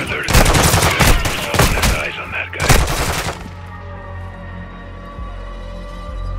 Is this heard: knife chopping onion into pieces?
no